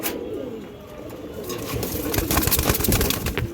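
Pigeons of an old breed coo softly in a loft, with muffled low coos and rustling under a faint background murmur.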